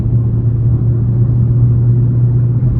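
A Dodge Charger Scat Pack's engine rumbles steadily from the driver's seat while cruising, a loud low drone with no voices.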